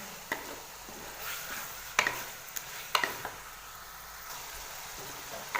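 Chicken frying with carrots in a pan, a low continuous sizzle broken by scattered sharp clacks of a utensil against the pan, close and moderately quiet.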